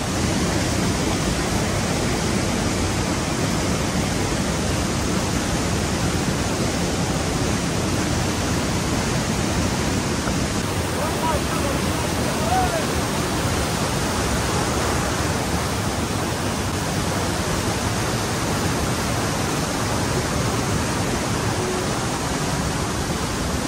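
Mountain stream flowing along a trekking trail in Kashmir, a steady, dense rush of water that stays loud and even throughout with no voices over it.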